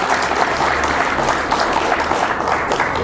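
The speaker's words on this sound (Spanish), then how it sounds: "¿Le puedes dar un aplauso a Jesucristo?" A church congregation breaks into steady, dense applause, loud and close, the clapping sustained evenly throughout with no voices standing out.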